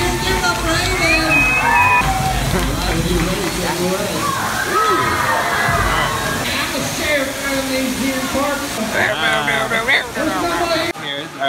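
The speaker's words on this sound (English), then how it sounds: "That waterfall is loud." A loud indoor waterfall at Casa Bonita restaurant roars continuously as a steady wash of splashing water, with people talking and calling out over it.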